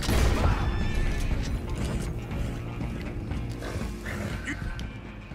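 Horses in the western game Red Dead Redemption 2 whinny and snort amid dense outdoor game ambience, a loud rough mix with hoof and tack noise and a voice talking partway through.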